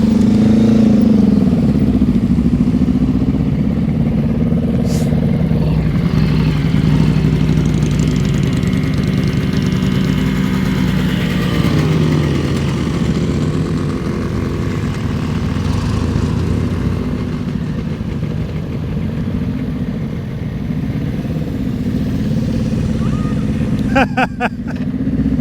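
A motorcycle engine idles and putters steadily at low speed during slow-speed riding practice, loud and close throughout, with faint voices briefly in the background.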